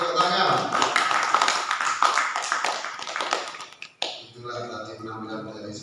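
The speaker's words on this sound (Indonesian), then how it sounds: "Beri tepuk tangan." An audience at a student speech competition claps in a dense, steady wash of applause for several seconds, then it fades and a voice begins talking.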